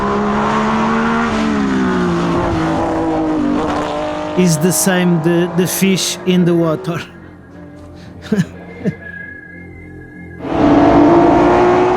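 Historic Porsche race car on a racing circuit, a loud close engine drone with shifting pitch, sharp bursts and squeals midway, then the engine roars back up, while someone talks.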